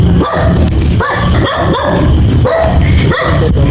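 A dog barks repeatedly nearby, sharp barks coming every half second or so in an uneven rhythm, with some background noise.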